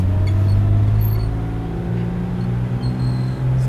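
A 1947 Chevrolet Stylemaster six-cylinder engine idles steadily close by, a low continuous rumble with a slight uneven throb and no voices.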